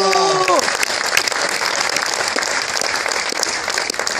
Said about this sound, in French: un tonnerre d'applaudissements, toute la salle.